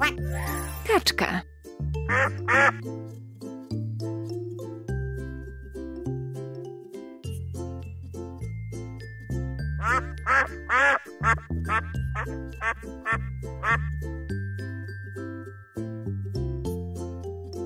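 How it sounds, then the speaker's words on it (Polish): A cartoon duck in a children's farm-animal song quacks repeatedly in a quick rhythm, loud and close, over bright jingling music. "Kaczka."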